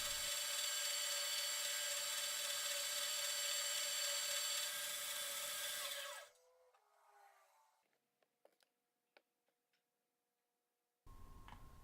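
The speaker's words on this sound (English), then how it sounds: "This is working the other end of that piece of pipe with yet another carbide cutter" A Rockwell metal lathe with a carbide cutter machines the end of a steel pipe, giving a steady loud whining cut that stops and winds down into quiet with a few faint clicks, then resumes at the end.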